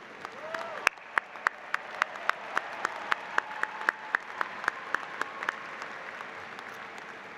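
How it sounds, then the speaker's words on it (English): A convocation audience gives a round of applause for master's students. The crowd sound is soft and diffuse, and sharp, evenly spaced clicks run across it at a steady rhythm, most likely a few louder nearby hands. "Let's give a round of applause for the master's students."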